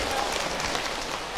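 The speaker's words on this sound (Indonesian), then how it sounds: "Tepuk tangan untuk Maidot." An audience at an Islamic religious talk claps in a broad, continuous wash of applause, moderately loud and sustained for the whole moment.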